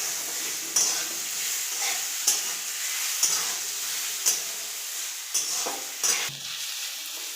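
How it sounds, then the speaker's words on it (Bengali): Potatoes fry in a pan of hot oil with a constant close sizzle, broken by about six scraping stirs of a spatula at regular intervals. "আমি আলুগুলোকে ভেজে নিয়েছি, ভালো ভেজে নিচ্ছি।"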